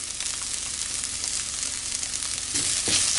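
Coriander powder and turmeric fry with cooked spinach in a pan, a steady, close hiss of sizzling oil that grows slightly louder near the end, with no voices.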